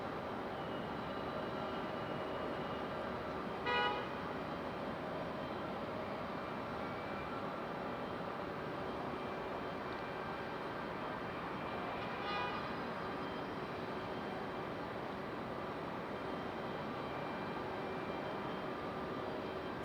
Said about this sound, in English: CRJ about to touch down now.